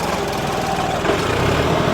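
A tractor engine labours under load with its four-wheel drive disengaged, a steady close rumble with a slight dip partway through, heard alone.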